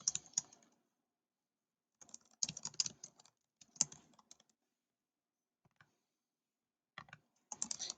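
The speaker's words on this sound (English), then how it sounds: "if I go to the fillable section, I can type here," Bursts of typing on a computer keyboard while filling in fields of a fillable Word document, close and fairly quiet, with clusters of quick key clicks separated by silent pauses.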